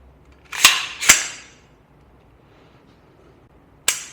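Three sharp gunshots from a Zbroyar Z15 AR rifle fitted with a Fostech ECHO trigger: two close together, then a pause and a third, each a crisp crack that fades quickly into quiet.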